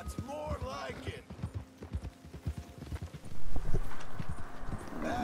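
Horse hooves clip-clop in a steady trotting rhythm as a rider heads toward town in Red Dead Redemption 2, with brief voices in the game over the hoofbeats.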